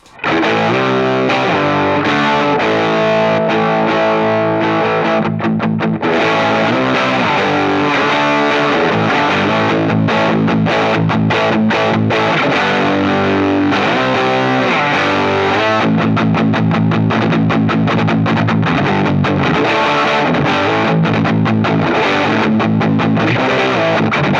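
Crunchy overdriven electric guitar through a 1981 Inventions DR drive pedal, playing chords and riffs continuously, loud and sustained with a thick distorted tone throughout.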